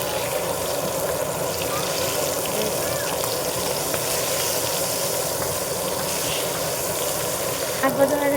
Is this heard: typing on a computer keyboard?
no